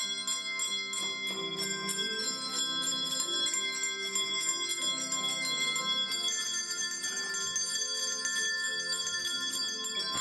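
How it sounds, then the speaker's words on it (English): Handbells played by volunteers and people with visual impairment in a music therapy group ring out in overlapping, sustained tones, with clear strikes rising and decaying close by, steady throughout and with no talk. "Those with visual impairment enjoy playing the bells with the gentle touch of a volunteer."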